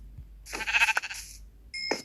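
Two sheep bleats from Minecraft, a wavering bleat followed after a pause by a second, shorter one, clear and close.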